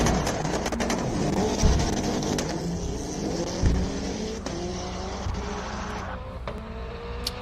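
A Subaru Impreza WRX STI race car roars continuously at a hillclimb event, its engine loud and sustained with rising and falling revs and occasional sharp bursts, close and dominant throughout.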